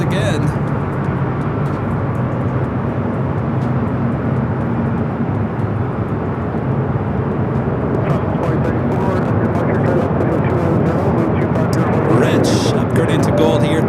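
Boeing 747 with a KLM nose flying at Los Angeles International Airport, a steady loud jet engine roar held throughout, with a voice talking over it.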